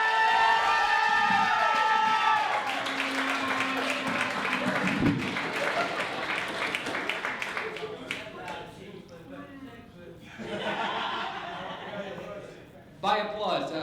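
At a stand-up comedy show, an audience greets the comedian Chris Johnson's entrance with sustained applause and cheering over walk-on music, the clapping thinning into scattered claps and voices before a final burst of applause.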